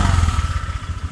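Honda Vario 125 scooter engine, with a faulty throttle position sensor, held at full throttle: a steady, close, low-pitched buzzing drone with a rapid pulsing rhythm and a faint rattle, heard alone.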